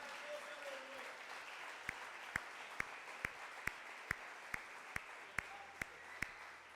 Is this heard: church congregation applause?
yes